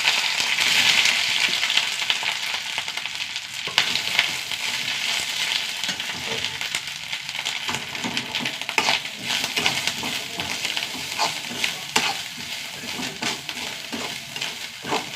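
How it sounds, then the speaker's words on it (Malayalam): Grated coconut roasts in a hot pan with mustard seeds, dried red chillies and curry leaves for a sadhya-style varutharacha curry. A continuous close crackling sizzle runs under steady, repeated scraping and stirring strokes. "തേങ്ങ നന്നായി മൂത്ത് വരട്ടെ"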